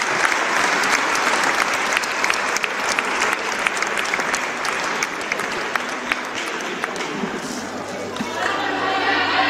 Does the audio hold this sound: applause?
yes